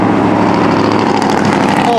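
A Freightliner Cascadia semi truck roars past on the road, a loud, continuous, broad engine and tire rush sustained throughout at close range.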